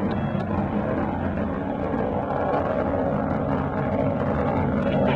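A Delta II rocket climbing through launch ascent gives a continuous, distant broadband roar, steady and moderately loud throughout with no voices.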